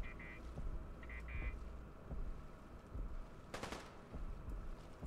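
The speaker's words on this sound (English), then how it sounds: "Oh, sounds like a gun." Gunfire in the video game Fallout 4, faint and distant, with a short rapid burst of shots over a windy, rumbling background and a few scattered softer pops.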